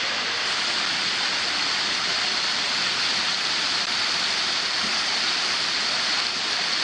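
A moderate waterfall pours down into a sinkhole at Falling Waters State Park in Florida, giving a steady, dense rushing roar with no breaks or voices.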